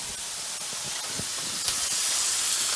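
Beef steak searing in a hot pan with butter, a steady close sizzle and hiss running throughout, with a few faint clicks of the pan.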